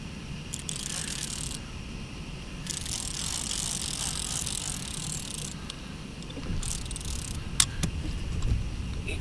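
A fishing reel's drag whirs and ratchets in rapid bursts as a hooked catfish pulls line, buzzing loudly in stretches with short pauses, no voices.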